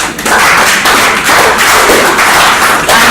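Loud, dense applause from an audience at the Co-Creation Hub innovation showcase week, 2019, steady claps filling the space for about three seconds, no talking.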